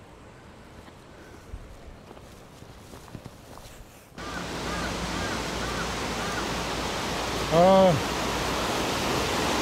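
A mountain valley stream at Piagol on Jirisan, Korea, rushes as a steady, close broadband wash that starts abruptly partway through, after quieter ambience; a brief voice is heard.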